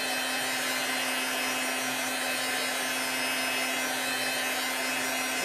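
Handheld dryer blowing over a chalk craft project, a loud steady whooshing hum with a constant tonal drone, running without pause throughout.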